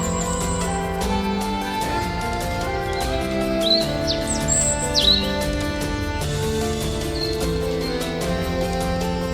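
Forest birds chirp and tweet in short high calls over a continuous layer of melodic background music, the calls scattered and moderately close.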